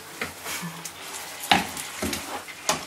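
Food cooking and being stirred in a pan, soft sizzling under a series of scraping stirs and light clinks of utensil against the pan, close and fairly quiet.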